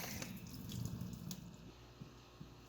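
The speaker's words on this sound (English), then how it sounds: "Now I'm draining the water off." Water pours and splashes into a sink as a cooking pot is drained, a steady gush tapering into a few drips.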